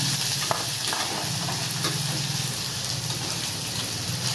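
Chopped ginger fries in hot oil while tempering for Tamil temple-style lemon rice, a loud, dense, continuous sizzle that sounds like crackling rain, heard close up with no talking.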